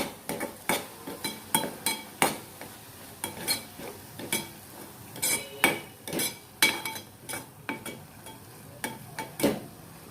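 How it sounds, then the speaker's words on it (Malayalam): Ground spices being stirred into a tomato-based mutton gravy in a pan, a spoon scraping and clinking against the metal about once every half second in an uneven rhythm, close up with a faint sizzle underneath. "ഇതിലേക്ക് നമുക്ക് പൊടികൾ ആഡ് ചെയ്ത് കൊടുക്കാം. നന്നായി മിക്സ് ചെയ്യാം."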